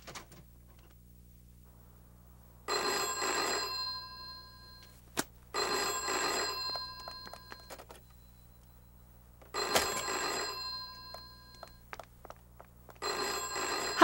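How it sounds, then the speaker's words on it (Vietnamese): Indoor telephone bell ringing in a series of four bright, trilling bursts about three seconds apart, separated by near-silence, heard clearly and fairly near. "chắc là Lập Nhân điện thoại tới để năn nỉ con."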